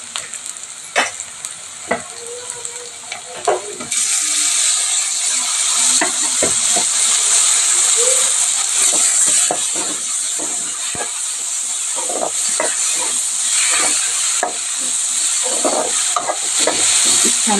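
Tomato pieces and ginger paste fry in a pan with a loud, steady hiss and sizzle that swells partway through, broken by repeated close scraping and knocks of a spoon stirring.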